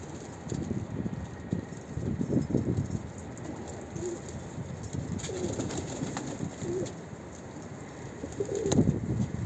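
Soft, low cooing from a red-shawled pigeon repeats in a quiet outdoor setting with a faint rustle in the background.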